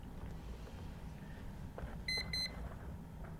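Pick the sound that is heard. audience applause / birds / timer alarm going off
timer alarm going off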